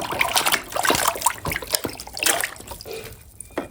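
A small toy pickup truck being washed in water, with irregular splashing, trickling and sloshing close by, busy and fairly steady before thinning out near the end.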